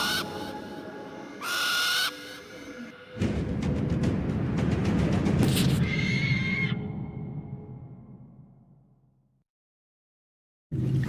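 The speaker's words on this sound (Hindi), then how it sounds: "अब ये उल्लू मेरा पालतू बन चुका है" A tamed owl in the video game Far Cry Primal gives loud hoots and screeches alongside game effects, then the sound fades to silence before a brief burst returns at the end.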